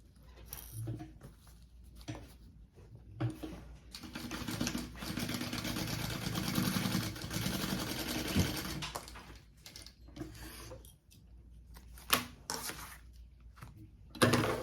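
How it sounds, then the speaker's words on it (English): Sewing machine basting fabric in place on a crossbody bag, with bursts of rapid stitching chatter, the longest lasting about six seconds in the middle, and handling noises between runs, close up. "Okay, I'm gonna baste this into place."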